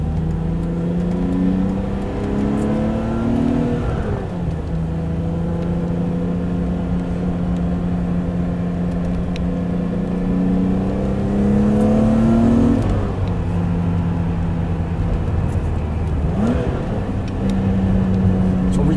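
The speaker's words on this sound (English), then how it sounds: "This is a BMW M5." A BMW M5 rated at 315 horsepower drives along a road, its engine droning loud and steady from inside the car, with pitch climbing and dropping through several gear changes.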